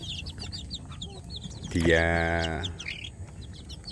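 Village chicks chirp in rapid high peeps throughout, close and continuous, while someone talks over them in a lower voice.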